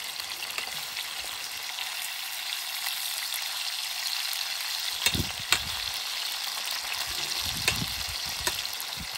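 Frying in a pan while making a hunters' soup of pheasant and pike: a steady, close hiss of sizzling oil with occasional louder crackles and pops, and no talking.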